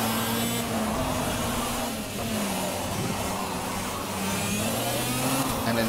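Steady, loud kart engine drone in Project CARS, a constant mid-pitched hum that barely rises or falls throughout, with no talk over it.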